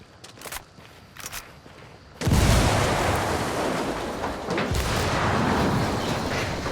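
A frag grenade goes off in Ghost Recon Wildlands: light footsteps and small clicks, then a sudden loud close blast that trails into a long rumbling, crackling decay.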